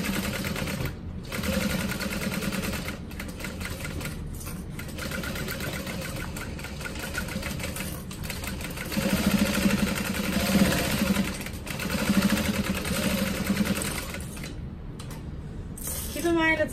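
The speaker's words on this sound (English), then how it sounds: "It's a lot of layers to be sewing through, so if your machine can't handle going this fast, take it nice and slow." A sewing machine stitching quickly through several layers of vinyl for a crossbody bag: rapid mechanical chattering in runs separated by short pauses, close up, with steady motor hum beneath.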